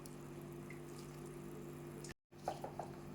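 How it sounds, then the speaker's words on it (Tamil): Oyster mushrooms are washed in a pot of water, with soft, steady splashing and trickling close by, a brief dropout, then a few distinct sloshes and drips. "இப்போது இந்த தண்ணியில் காளானை வச்சு நம்ம வாஷ் பண்ணிக்கலாம்."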